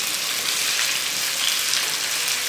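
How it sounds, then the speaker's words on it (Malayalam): Large chicken pieces fry in hot oil for a biryani dish, giving a steady, dense sizzle that stays loud and even throughout, with no voices. "ചിക്കനൊക്കെ ഇവിടെ ഫ്രൈ ആയിട്ടുണ്ട്, നല്ലോണം ഫ്രൈ ആയിട്ടുണ്ട്."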